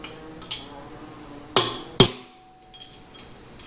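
Three sharp metallic hammer blows on a steel punch driving a bearing race in a Chevy Nova rear end, one light then two loud strikes about half a second apart, each ringing briefly before fading.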